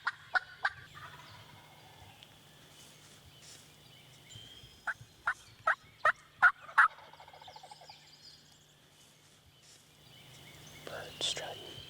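Wild turkeys gobble in answer to calling, a quick burst of sharp gobbles early, then a louder run of rhythmic gobbles in the middle, with hushed whispering between.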